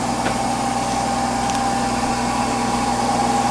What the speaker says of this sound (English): You can hear the speed of the motor coming up.